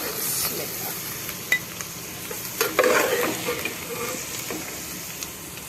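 Vegetables sizzling in a pan over a high flame, a continuous frying hiss broken by a few sharp stirring knocks and scrapes against the pan, no talking.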